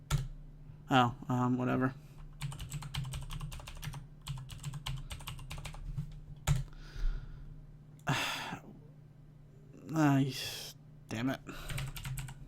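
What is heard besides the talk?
typing a password on a computer keyboard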